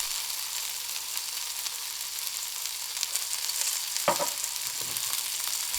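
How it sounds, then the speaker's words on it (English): Broccoli and potato with cumin, chili powder and salt being mixed in a pan for an Indian subzi, a soft, faint sizzle under steady background hiss with a brief scrape of stirring near the end, no voices. "Mix it, all the spices together with all of the vegetables."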